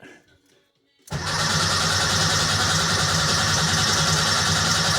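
An engine with a mechanical fuel pump catches after a brief quiet spell and settles into a loud, steady, close-up running roar.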